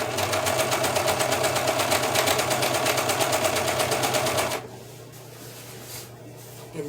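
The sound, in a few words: serger sewing machine running with four threads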